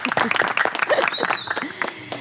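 Audience applause rises at a monthly fireside poetry evening, a dense patter of many hands clapping close by that carries through the whole stretch. A voice calls out over it.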